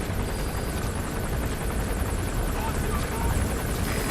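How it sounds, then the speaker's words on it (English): A support helicopter arrives in the game Metal Gear Solid V: The Phantom Pain, its rotor and engine drone loud and continuous and mixed with in-game voice activity. "Support helicopter requested."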